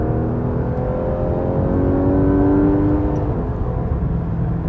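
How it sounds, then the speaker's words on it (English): A Porsche 911 GT3 RS of the 991.1 generation with its 4-litre naturally aspirated engine pulls hard under acceleration, a loud, continuous, rising engine note heard from inside the car with no talking. "this is the 4-litre infamous Porsche engine"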